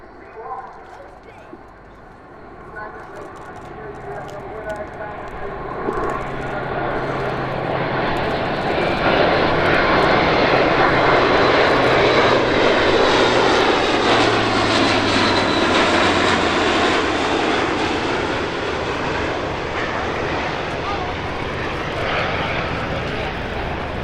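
Airbus A400M Atlas C1 military transport making a flypast at the Cosford Airshow, its turboprop drone swelling from the distance to a loud, sustained roar overhead and slowly fading, with a crowd and announcer audible beneath.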